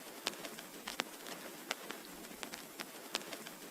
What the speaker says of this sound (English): a vinyl crackle sound like this.